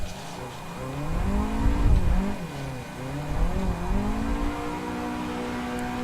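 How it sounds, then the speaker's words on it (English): A car drifts at full lock in the Assetto Corsa racing game, its engine revving and wavering in pitch while tyres squeal through long slides, loud and continuous with no voices. "I'll try and do some full lock drift angles so we get some warmth into those tyres"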